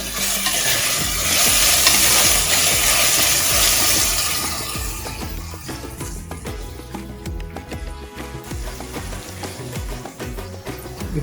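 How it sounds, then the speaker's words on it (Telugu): Ginger garlic paste fries and sizzles in a pan for a mutton paya curry, a steady close crackle with stirring scrapes, louder at the start and then settling into a busier, slightly quieter sizzle. "ఈ అల్లం వెల్లుల్లి పేస్ట్ కూడా పచ్చి వాసన పోయేదాకా వేగనివ్వండి"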